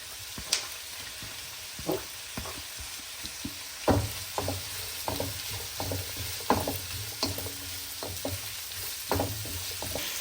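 Onions with ginger, garlic, green chilli and curry leaves sauté for a Kerala-style duck roast, a soft steady sizzle broken by irregular clinks and scrapes of stirring, up close with no voices.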